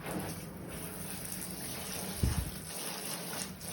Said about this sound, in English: I'm just rinsing it off with my shower